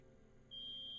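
A fire alarm in the video game GlitchSPANKR switches on partway through as a loud, steady, shrill electronic tone that holds unbroken to the end over a low background hum, with no talking.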